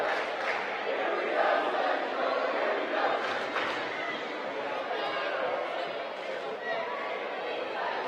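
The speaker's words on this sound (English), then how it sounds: "It's a great crowd here" A crowd at a high school basketball game in a gym, Central York against Northeastern, makes a continuous murmur of chatter and shouts. It stays fairly even and echoes through the hall.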